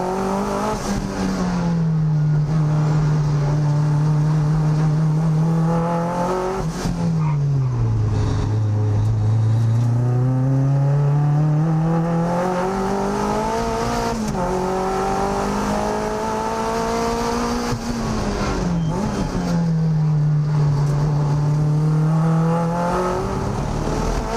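Mazda MX-5 race car on a time attack out lap, its engine droning steadily with rising and falling pitch through repeated gear changes and throttle lifts, loud and close with no voices over it.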